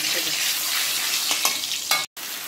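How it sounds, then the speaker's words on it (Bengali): Cumin, dried red chilli and bay leaf tempering hissing in hot oil, a loud continuous sizzle with a few crackling pops, cut briefly near the end by a sudden dropout. "জিরে, শুকনো লঙ্কা আর তেজপাতা ফোড়ন দিয়ে দিলাম"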